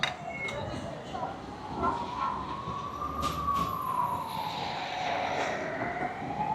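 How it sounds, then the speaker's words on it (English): A wailing ambulance siren rises and falls as it passes by in Costa Adeje, Tenerife, mid-distance, over steady street noise with some talking. "Got an ambulance coming past."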